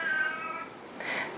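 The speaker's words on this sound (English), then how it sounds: "this cat is crazy." A cat meows twice, a longer drawn-out cry followed by a brief pause and a second shorter meow, close and fairly quiet with no speech.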